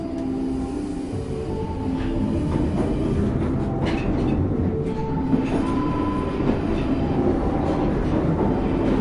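A London Underground Northern line metro train bound for High Barnet rumbles steadily along the track, a continuous loud roar with faint rattling and occasional squeals, no voices.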